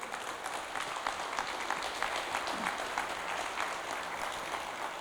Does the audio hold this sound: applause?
yes